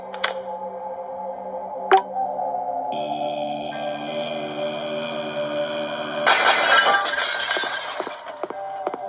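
Glass shatters in a monster horror video game, a sudden bright crash with scattering shards over sustained synthetic tones and pings, preceded by two sharp clinks.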